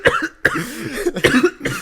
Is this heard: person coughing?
yes